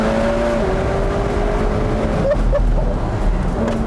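A 2022 McLaren 720S Spider accelerates hard with a steady, loud engine roar that holds throughout, with faint whining tones gliding above it.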